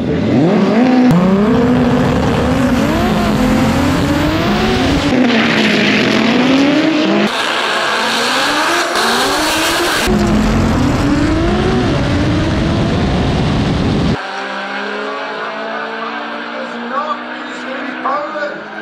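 Drag racing cars blast down the quarter-mile strip at Santa Pod, engines roaring loud and close with rising and falling revs, then dropping to a lower, steadier drone as a crowd and commentary carry on underneath.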